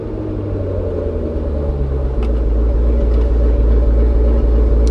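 A boat's outboard engine, with water muffs attached, running in a steady, loud low rumble that rises a little in strength partway through, with no talking.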